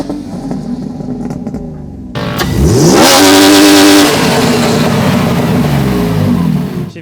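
A freshly rebuilt car engine is loud and close: it idles roughly, then revs sharply and holds at high rpm, bouncing against the rev limiter for several seconds before easing off.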